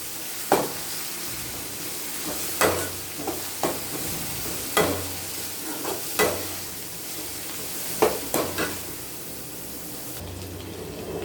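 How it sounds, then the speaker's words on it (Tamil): Ginger and garlic sautéing in a pan: a steady soft sizzle with repeated spatula scrapes and taps against the pan at irregular intervals, close up with no talking. "இஞ்சி பூண்டு பச்சை வாடை போகிறது வரைக்கும் வதக்கி விடணும்."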